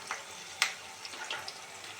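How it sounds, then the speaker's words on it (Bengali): Onions and garlic fry gently in a pan, a quiet, even sizzle broken by a few light clinks and taps of stirring, with no talk. "দেখুন পেঁয়াজগুলো ঠিক এরকমভাবে ভাজা হবে।"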